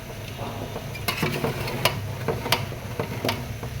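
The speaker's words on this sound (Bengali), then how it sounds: "মশলার সাথে মাংসটা কষানো হচ্ছে।" Meat sautéed with spices in a pan gives a low, continuous sizzle, broken by irregular scrapes and clinks as a spoon stirs against the pan.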